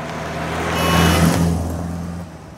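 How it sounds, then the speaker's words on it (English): A car engine swells as the vehicle passes close by, then fades away over a couple of seconds. "Oh, a car!"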